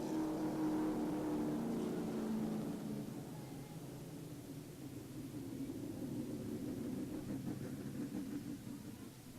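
Super Late Model race cars at a speedway, heard as a steady engine drone that fades slightly and then builds again as cars pass at a distance, moderately faint, with no clear talk.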